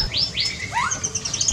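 Birds from outside Java kept in a home aviary chirp loudly and close, a quick series of rising, sweeping tweets overlapping one another with no talking.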